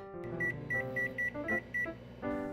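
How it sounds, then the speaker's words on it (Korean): A microwave oven finishing a steamed egg dish made with milk and salt gives a series of repeated electronic beeps in an even rhythm, close and clear, with a faint hum underneath. "전자레인지에 5분 30초 돌려주면"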